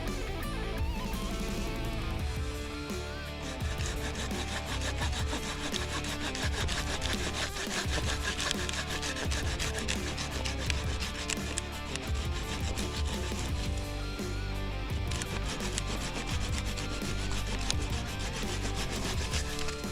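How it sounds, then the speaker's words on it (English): Handsaw cutting through a small fallen tree that blocks a trail between Merritt and Kelowna, giving steady, continuous rasping wood strokes that are close and loud throughout, with no talking. "it looks small, and I have a handsaw, so I think I can pass it."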